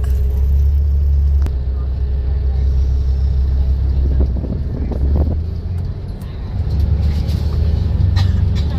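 Airport service bus carrying passengers across the tarmac to a plane, a loud continuous low engine rumble with road noise and brief rattles, voices talking faintly in the cabin.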